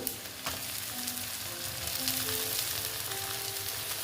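Onion, garlic and potatoes fry together in hot oil for a dried-fish dish, giving a soft, continuous sizzle with faint crackles and occasional stirring, and no one speaking.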